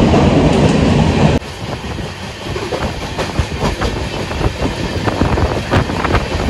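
A passenger train on the Konkan Railway rumbles past close by, a steady roar with rhythmic clacking of wheels over rail joints, loud throughout after a sudden shift in tone.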